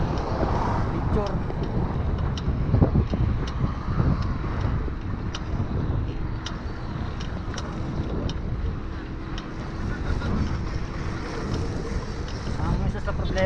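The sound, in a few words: strong wind during GoPro ride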